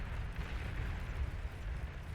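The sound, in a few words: unit death explosion in the video game Beyond All Reason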